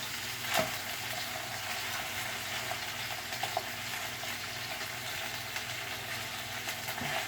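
Hamburger patties fry in a pan with a soft, continuous sizzle and a few small pops and clicks, fairly faint and steady with no voices.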